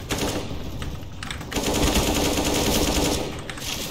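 Rapid automatic gunfire in a competitive tactical shooter game match, loud, dense bursts of rattling shots filling the whole stretch with brief gaps between volleys.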